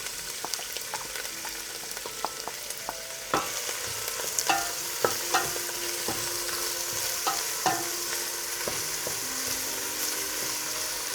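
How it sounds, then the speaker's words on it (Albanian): Frozen chopped spring onions fry in hot oil for a spinach burani, with a steady crackling sizzle punctuated by frequent sharp spatula scrapes and taps against the pan, close and clear, with no talking. "sot po bëjmë një burani me spinaq. Për buranin me spinaq na duhen qep të njoma dhe filloj njëherë me skuqjen e qepëve."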